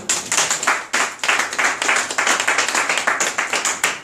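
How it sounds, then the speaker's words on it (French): An audience at a seminar claps and applauds loudly and continuously, with many sharp, dense hand claps building into sustained applause close by. "Est-ce qu'on peut acclamer très fort le nom de Dieu?"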